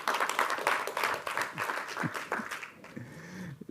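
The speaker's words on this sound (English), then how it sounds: "Another round of applause for the Honorable Minister." An audience at a corporate capital markets event applauds the honorable minister. The clapping is steady and fairly faint, then thins out toward the end with a little low murmuring.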